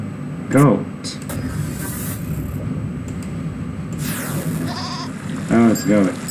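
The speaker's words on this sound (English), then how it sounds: "Oh, it's a goat." A goat bleating in a video game, with one wavering bleat early and two quick bleats near the end over a steady background hiss.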